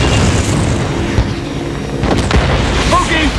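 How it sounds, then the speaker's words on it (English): Mortar explosions land in the Ace Combat Assault Horizon game, heavy booms thudding out of a dense rumbling battle bed, a couple of sharp blasts standing out close by. "Those mortars are getting close!"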